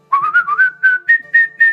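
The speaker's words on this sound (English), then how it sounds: "They're both whistling." A person whistling a short, bright tune of about eight quick notes that climb step by step, close and clear, with nothing else heard.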